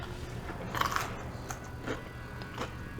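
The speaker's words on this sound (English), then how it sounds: "hear the crunch" A few crisp crunching bites of fried plantain stuffed with shrimp and chewing sounds, close up, spaced irregularly over a quiet background hum.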